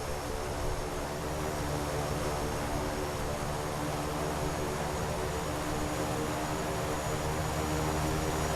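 Beechcraft King Air C90 turboprop engines roar in a steady, loud drone with a constant whine, heard from inside the aircraft as takeoff begins, with no voices.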